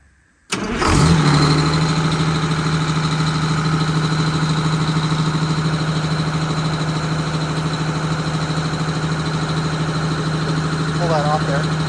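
A diesel engine in a Wanderlodge RV bus conversion cranks and catches abruptly after a moment of quiet, then settles into a loud, steady close-up idle that runs on unbroken.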